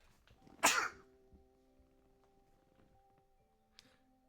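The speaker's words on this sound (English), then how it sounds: "I gotta sneeze." A single sharp sneeze bursts out near the start, followed by quiet room tone with a faint click later on.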